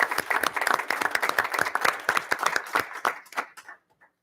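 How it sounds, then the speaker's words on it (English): Audience applause at a school board of education meeting, a dense burst of clapping from a roomful of people that carries steadily for several seconds, then thins out and stops near the end. "Let's pause for 1 second and just applaud her."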